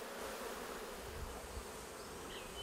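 A steady, continuous drone of bees buzzing fills the space at low volume without pause, in a Mexican montane cloud forest; no one speaks.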